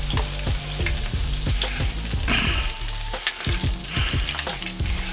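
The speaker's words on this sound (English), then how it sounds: "Now these don't take too long to fry, guys" Soul rolls deep fry in hot oil, giving a loud, close, continuous sizzle and crackle with frequent small pops, and nobody speaks.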